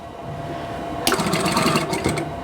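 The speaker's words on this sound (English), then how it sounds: "next I'm going to sew these into the corner, and I will use my diagonal seam tape here" A sewing machine stitches quilt block pieces into a corner, starting abruptly after a quiet moment with a close, steady mechanical whir and rapid needle rhythm that continues to the end.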